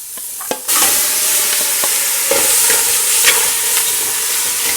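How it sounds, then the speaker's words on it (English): Octopus sautéing in a hot pan after a seasoning of salt and pepper gives a steady, close sizzle that starts after a brief gap, with scattered clicks of stirring running over the constant frying hiss. "Then we'll just go ahead and add our octopus."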